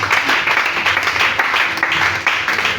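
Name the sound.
congregation applauding and acclaiming Jesus Christ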